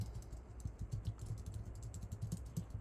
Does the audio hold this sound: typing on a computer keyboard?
yes